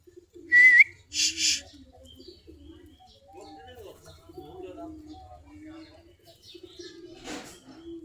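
Native Giribaj pigeons perched in the doorway of their loft on a cool winter morning give low, soft cooing throughout, with two brief louder bird-like bursts near the start.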